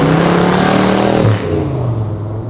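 A 1981 Chevrolet El Camino with aftermarket American Racing wheels revs loudly, its engine note holding high then dropping sharply to a lower, steady rumble partway through.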